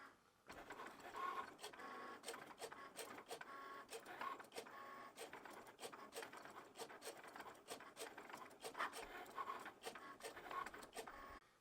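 A Cricut Maker runs through an infusible ink design, giving off a steady mechanical whir with repeated short carriage shuttles and faint clicks, fairly quiet and continuous with no talk.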